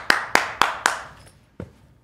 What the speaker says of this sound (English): I want to give a round of applause for Russell Westbrook.